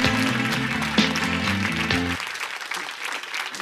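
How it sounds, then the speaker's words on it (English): An audience applauds a speaker at a hacker conference, with a steady wash of clapping under a low musical tone that stops partway through. "Huge round of applause for Johannes."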